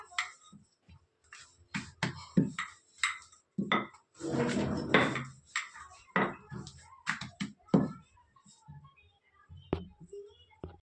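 Chapati dough rolled out on a board, with irregular knocks, taps and rolling scrapes of a rolling pin in short bursts, fairly close and moderately quiet, with some soft talk between them.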